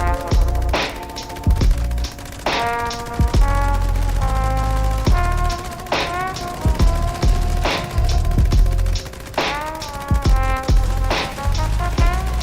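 A Gauss minigun firing in the Fallout 76 video game during a fight against the Ultracite Terror: loud, sustained bursts of rapid gunfire with brief breaks, layered over game sound and music.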